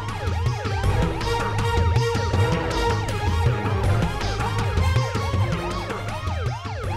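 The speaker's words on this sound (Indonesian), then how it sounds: "Mana sih ambulansnya?" An ambulance siren wails in rapid repeating sweeps, loud and close over a low engine rumble, with the cycling tone continuing steadily and no talking.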